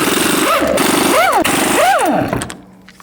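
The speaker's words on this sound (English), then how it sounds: "Take the lug nuts off." Impact wrench zipping lug nuts off a Chevy Tahoe wheel with a 22mm socket, three rising-and-falling whirring bursts over a steady rattling hum, loud and close.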